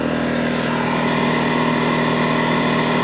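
A WEN 56235i portable generator idles steadily and loudly nearby at about 4,800 RPM, a constant buzzing drone with an even mechanical hum throughout.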